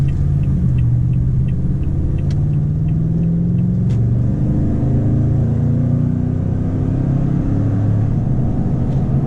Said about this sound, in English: You're definitely gonna get a grumble on acceleration.